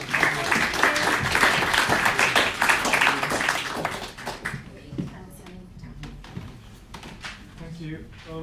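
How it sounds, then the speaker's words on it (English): Audience applause after a talk at a founders' masterclass event: dense clapping for about four seconds, then tapering into scattered claps, shuffling and light knocks as murmuring voices take over. "big round of applause for Alison"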